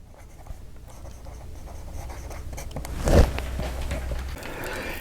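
Esterbrook fountain pen with a 2556 nib scratching softly across paper, a faint continuous writing rustle with one brief louder stroke midway, close and quiet with no talking.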